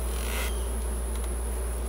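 Honey bees buzz steadily around frames of comb from a rescued hive, a continuous close drone with no voices.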